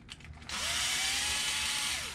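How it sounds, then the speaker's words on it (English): A power driver runs steadily, driving coarse-thread screws into a 1/10-scale 4WD brushless RC desert truck. After a few quiet clicks comes one loud, continuous high whine that holds for about a second and a half and then dips slightly. No speech. "excellent time to use the power driver. And get this done quick"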